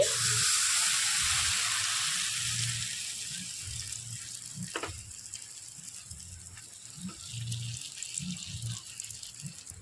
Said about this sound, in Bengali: তেলটা কিন্তু খুব সুন্দর করে গরম হয়ে গেছে। ডাল আর ডিমের মিশ্রণটা এবার আমি দিয়ে দিচ্ছি।